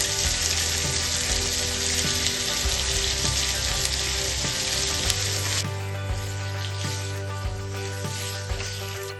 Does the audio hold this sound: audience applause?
no